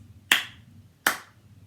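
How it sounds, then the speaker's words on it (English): Two crisp, close hand claps spaced under a second apart, each a sharp snap that decays quickly into near silence, performed as a simple body-percussion rhythm exercise. "So let's do 2 claps"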